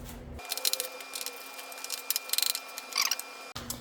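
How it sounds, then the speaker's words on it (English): A socket wrench tightening a seat bolt on a 2024 KTM 65 SX dirt bike, giving soft rapid ratchet clicks in a short cluster, close and quiet, amid light handling noise. "I'm just gonna tighten it up, the same socket, wrench, all that obviously, and tighten it down"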